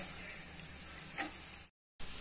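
Masala fries in a pan for Banarasi-style nimona with a steady, quiet, close hiss, a couple of faint clicks, and a brief drop to silence before the sizzle returns.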